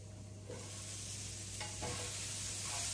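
Leeks cooking in a pan for a leek, tuna and smoked lardon quiche, giving a steady, soft sizzle with a few light stirring scrapes, fairly quiet and with no talking.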